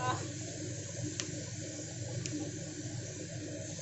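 Cut vegetables and two green chillies hit hot oil in a pan for a cabbage and fish-oil dish, giving a steady, close broadband sizzle that holds evenly throughout with a couple of brief sharp crackles.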